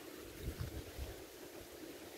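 Strong wind blows across a microphone outdoors near a rice field, a low, gusty rumble with irregular buffeting bursts that fills the whole short stretch, with no voices.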